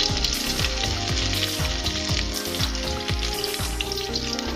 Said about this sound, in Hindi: और कटा हुआ प्याज को डाल देंगे।